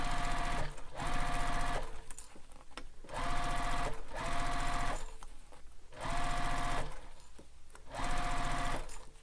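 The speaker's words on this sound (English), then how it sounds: "now we're going to sew this with the seam allowance given in the pattern" A sewing machine runs a fabric seam for a bowler bag in bursts of rapid, loud stitching, stopping and starting about four times with short pauses between runs.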